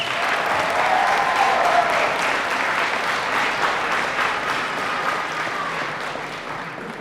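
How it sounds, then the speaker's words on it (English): Audience applause at a recognition ceremony for coding program completers, a broad crowd of clapping that holds strong for several seconds and then slowly thins and softens toward the end. "let's give all of our completers one last round of applause"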